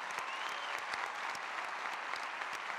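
Studio audience applause for guests on a Spanish-language talk show: moderately faint, continuous clapping with distinct sharp individual claps standing out, lasting a few seconds.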